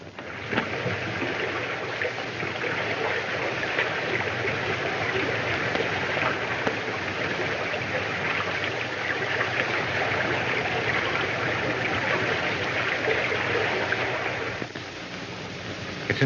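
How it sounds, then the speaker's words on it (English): Water of an underground river rushes continuously, a dense and fairly loud roar that holds steady throughout with no voices over it. "It's an underground river, King."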